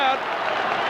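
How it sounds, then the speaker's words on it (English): Roaring stadium crowd at a 1983 Carlton versus Fitzroy Australian football match, a brief dense swell of cheering and applause with commentary voiced over it. "Oh, listen to the crowd."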